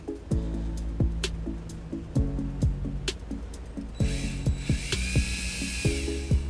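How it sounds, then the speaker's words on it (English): A power drill bores a small quarter-inch hole through a plastic floor plug on a 2009 Toyota RAV4. Repeated ratcheting whirs and clicks rise and fall in short bursts, close by, with a brighter higher whine joining toward the end. "I'll drill a little 1/4-inch hole through the flood plug"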